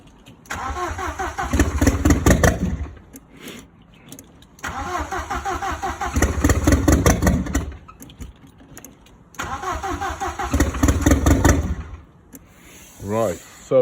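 A 1.8T AEB engine in an Audi 80 cabriolet cranks in three long, loud bursts of starter churning separated by pauses, then a short final catch and rev at the end. A voice speaks briefly.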